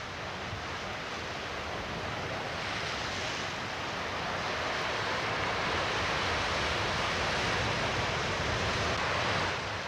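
Hurricane gusts of 65 knots roar with surf at the Newport jetty in 1939, a dense, unbroken rush of wind and breaking water that swells slightly louder toward the end.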